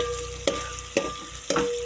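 Onions fry in oil with a constant low sizzle, broken by three evenly spaced sharp knocks or scrapes of a spoon against the pan, close up and with no voices.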